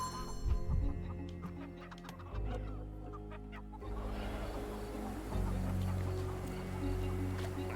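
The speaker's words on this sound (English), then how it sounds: "I hear chickens. There's chickens." Chickens cluck repeatedly, close and clear, over a steady low background rumble that shifts in level partway through; no one speaks.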